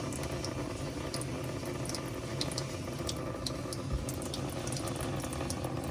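A steady, faint trickle of water with light bubbling and dripping runs continuously out of an RODI water filter under a low background hum, with no voices.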